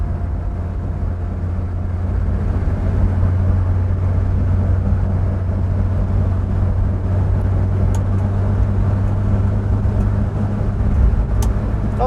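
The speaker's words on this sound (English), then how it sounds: "Oh, a bit of axle noise going on as well." Steady low road drone and rumble from a Vauxhall Viva HC on the move, with axle noise blended into the constant engine and road noise, loud and continuous with no talking.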